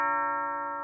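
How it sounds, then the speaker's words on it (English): An electronic doorbell chime sounds once, a steady clear tone that holds for under a second, alone with no talking. "I hear a doorbell."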